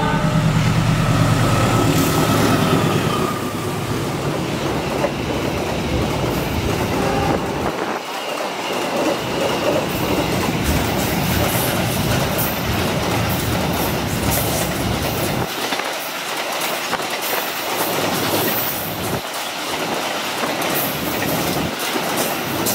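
A freight train rumbles past close by, wheels clattering rhythmically over the rails with occasional squeals, loud and continuous the whole time.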